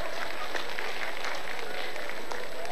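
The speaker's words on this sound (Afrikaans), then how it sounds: "En gee my 'n lekker hande klap." Audience applause at a magic show after a dice trick, a brief burst of dense clapping filling the whole clip, fairly close and steady with no clear talk on top.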